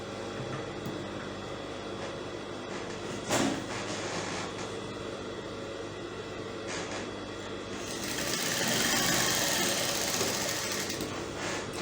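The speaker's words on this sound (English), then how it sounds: "So I'll stitch it from the right side." A sewing machine stitching a fully lined gown runs in a steady, continuous whir close by for the whole stretch, swelling slightly louder toward the end.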